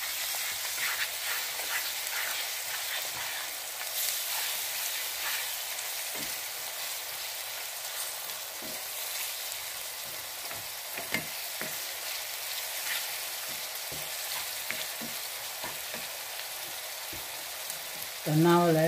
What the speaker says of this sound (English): So I'll let my ginger garlic all fry together.